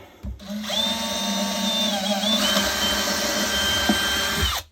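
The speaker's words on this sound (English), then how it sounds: "I'm going to pre-drill these holes" A power drill whines steadily for several seconds as it pre-drills holes in wooden boards, its pitch dipping briefly under load before spinning down.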